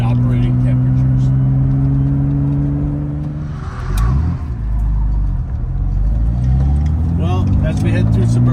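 A 1965 Aston Martin DB5 on a suburban road test, engine droning loudly and close with a dip and rise in revs midway as the car shifts and pulls on, a strong steady motor note throughout.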